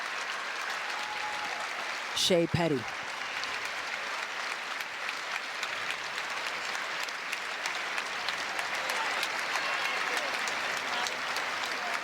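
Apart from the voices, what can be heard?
arena crowd applauding injured basketball player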